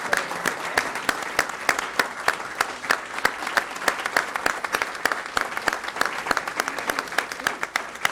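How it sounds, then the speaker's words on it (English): An audience at a Fayetteville city council meeting claps steadily, many individual hand claps ringing out distinctly in a sustained round of applause, fairly close and loud. "can we give Command Sergeant Major a clap so he knows how many people are here?"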